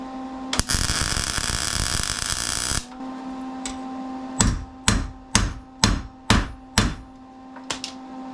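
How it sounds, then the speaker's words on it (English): A Chevy metal part near the wiper cowl and fender hook area is first worked with a loud burst of rushing grinding noise. About seven sharp metallic hammer blows follow at an even pace, close up, with no talking. "I'm gonna hammer that flat and grind it a little better"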